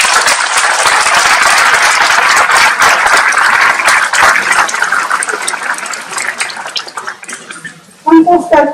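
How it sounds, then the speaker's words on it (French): A town audience at the mayor's New Year ceremony in Saint-Marcel applauds the festival volunteers, loud sustained clapping that gradually thins and fades before a voice resumes speaking. "je vous demande tout simplement d'applaudir les bénévoles pour le succès de cette fête"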